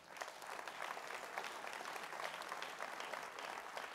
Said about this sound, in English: give yourselves a round of applause for that